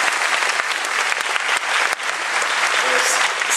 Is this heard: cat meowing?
no